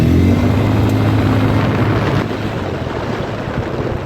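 A 2014 Polaris Ranger 400 4x4 engine at full throttle after a valve adjustment roars loud and close, a dense steady growl that eases slightly partway through without letting up.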